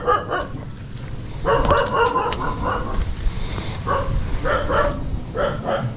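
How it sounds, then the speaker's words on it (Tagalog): A dog barks repeatedly at an arriving visitor, a series of close yips and bow-wows in uneven bursts over outdoor background noise, with no one speaking. "Nakatakot yung aso mo."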